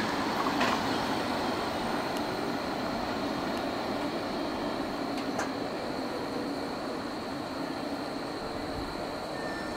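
A CSX freight train rounds a hairpin curve, its steady rolling rumble and wheel noise continuous throughout, with occasional faint flange squeals and clicks over the track, loud and close.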